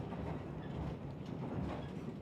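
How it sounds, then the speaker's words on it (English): Steady rumbling and rattling of a train carriage during a ride from Colombo to Kandy in Sri Lanka, a continuous low roar with faint rail clatter and no voices. "The train ride from Colombo to Kandy wasn't quite what we expected"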